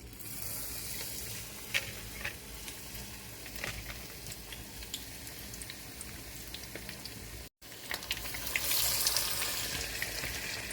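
Squid pieces coated in gram-flour and cornflour batter are dropped into hot frying oil, setting off a loud, continuous sizzle and crackle close by, with a brief cut midway before the bubbling swells again.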